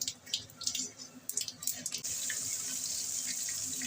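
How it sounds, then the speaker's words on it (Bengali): Whole cardamom, cinnamon, cloves, cumin and a dried red chilli hit hot mustard oil, a few sharp crackles giving way after two seconds to a steady, close, loud hiss of frying spices. "এলাচ, দারচিনি, লবঙ্গ ফোড়ন দিয়ে দিচ্ছি।"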